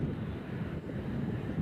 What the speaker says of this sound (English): somebody somewhere is firing up their engines, because I can hear it